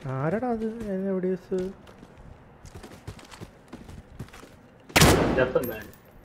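Gunfire in the multiplayer mode of the video game Call of Duty: Modern Warfare erupts as a single loud, sharp burst with a short ringing tail, after a stretch of talking.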